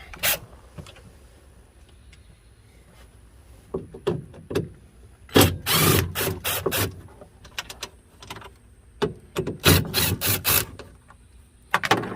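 Close, scattered knocks, rattles and scraping bursts come from work on the cover of a first-generation Kawasaki KAF300 Mule electric utility vehicle. The handling noises arrive in short clusters with quiet gaps between them, and no one speaks.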